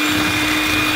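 Electric mixer blending brownie batter with vanilla, a loud steady motor whir running without break, close up and alone.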